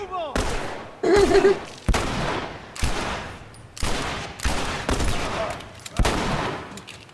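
Gunfire in The Last of Us: about seven loud, sharp shots spaced roughly a second apart, each with a ringing decay, with brief voices in between.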